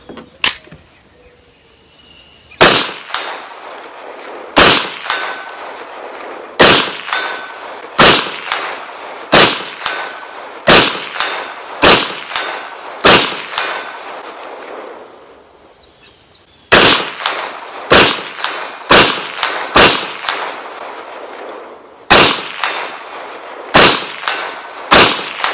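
Sharp, loud gunshots from a Walther WMP .22 Magnum fired at an outdoor range, about fifteen spaced reports each with a short ringing tail, faint pings from a steel target lost under the blasts.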